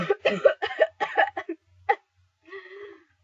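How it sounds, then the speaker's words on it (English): A rapid burst of harsh coughs, about seven in quick succession, followed by one more cough and a short strained vocal sound, close and loud. "have a nasty cough."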